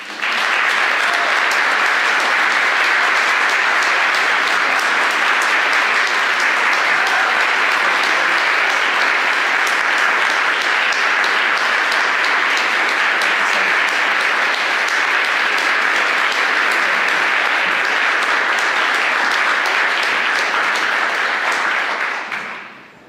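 An audience at an arts showcase gives a standing ovation, dense, loud clapping that holds steady for over twenty seconds before fading quickly at the end.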